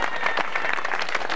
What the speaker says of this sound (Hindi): आपकी मोहब्बतों की तालियां।